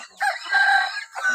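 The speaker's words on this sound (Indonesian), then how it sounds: "Ini ayam kampung guys." A free-range native village chicken (ayam kampung) crowing nearby, one loud drawn-out cock-a-doodle-doo with a short follow-up note at the end.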